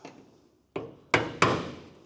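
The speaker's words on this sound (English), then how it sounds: "Gets you really good at your hammer and dolly finesse." Three sharp metallic strikes of a hammer and dolly on a car body panel, the last two close together, ringing briefly in a quiet workshop space.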